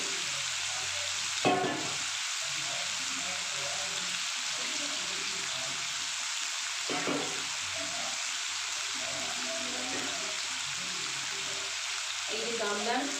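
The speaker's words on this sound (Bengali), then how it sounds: "মশলাটা দিয়ে জলটা আমি দিয়ে দিলাম" Steady sizzling and simmering of a lightly spiced Bengali meat curry after water and spices are added, a continuous bubbling hiss with occasional stirring knocks, close up, with faint talk underneath.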